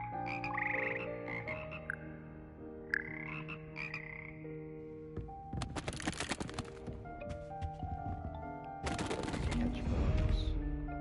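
Frogs croaking in the Hogwarts Legacy video game, a run of close, repeated croaks with bursts of broadband clatter from the game midway and near the end, with no talk over them.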